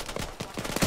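Gunshots in a combat skirmish during Operation UPEMBA crack out in a quick burst of about five sharp shots, spaced a fraction of a second apart, with the last one the loudest.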